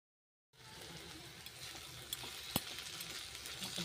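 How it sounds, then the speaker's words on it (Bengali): Eggplant frying in a pan gets stirred, a soft continuous sizzle starting after a short silence with a few light scrapes and one sharper knock of the spoon, close and quiet with no talking. "একটু নাড়া দিয়ে দিলাম।"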